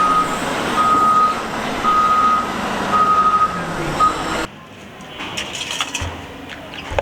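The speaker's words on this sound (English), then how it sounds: "This is a small size front loader." A small front loader reverses with a steady run of loud electronic backup beeps over its engine rumble, then the beeping and engine drop away to quieter outdoor background.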